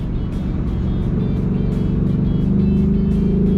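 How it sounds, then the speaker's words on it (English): Ford Mustang Mach 1 exhaust on a warm-up lap: a steady, moderate, low engine drone with a gentle rise in pitch and level toward the end, heard from inside the car. "I would have expected more of an aggressive exhaust note, but we are just on a nice little warm-up lap."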